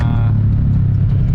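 A racing exhaust on a motor vehicle rumbles loud and close in a short, steady burst, a deep throaty drone with a brief higher rasp at the start.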